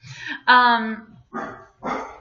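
Dogs barking inside a house: three sharp, loud barks in quick succession, close by and clearly heard.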